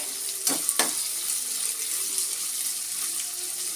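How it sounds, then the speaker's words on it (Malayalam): Boiled koorka (Chinese potato) dropped into hot oil, giving a steady close hiss and crackle of frying with a couple of sharper splashes near the start, no talking. "എണ്ണ ചൂടായി ചൂടായപ്പോഴത്തേന് നമ്മൾ അതിനകത്തിലേക്ക് വേവിച്ച് വെച്ചിരിക്കുന്ന നമ്മുടെ കൂർക്ക ഇട്ട് കൊടുത്തേ"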